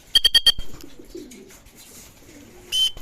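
Racing pigeons returning during a 135 km training flight in Pozorrubio, Pangasinan: soft low cooing in the middle, framed by sharp bursts of rapid wing flaps or clatter at the start and again near the end, close and without talk.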